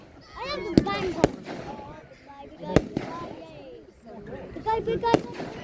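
At the 2022 Oakington fireworks display, a handful of sharp, loud bangs go off a second or two apart, nearby, with people's excited voices chattering between the blasts.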